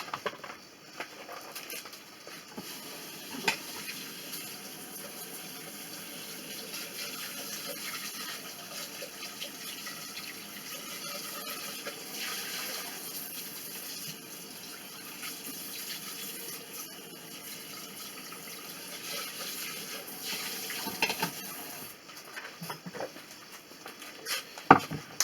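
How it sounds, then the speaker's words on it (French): Tap water runs into a bowl being rinsed, a soft continuous splashing stream with patter and shifting gurgles, moderately close, alone, with a few clinks near the end. "Là je vais rincer mon bol."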